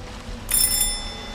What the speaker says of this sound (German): Hier haben wir noch eine Klingel.